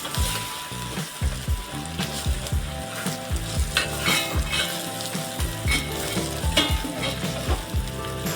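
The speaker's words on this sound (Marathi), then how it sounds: "आपल्याला व्यवस्थित अशा फोडणीमध्ये मिक्स करून घ्यायच्या" Grits stirred in a sizzling pan of tempering, with a steady hiss and repeated scraping strokes over background music.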